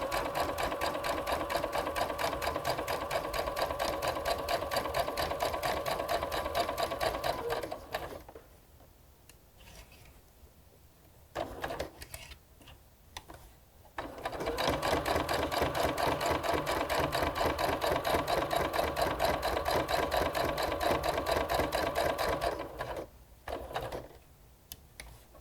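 A sewing machine stitches a fabric bookmark in long, steady rapid runs, pausing and starting again with brief bursts as the fabric is pivoted at the corners.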